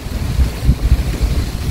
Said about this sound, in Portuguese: Bastante vento, muito vento mesmo.